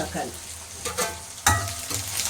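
Onion frying in a hot pan, a steady bright sizzle with crackling bursts and the scrape of stirring, close and continuous.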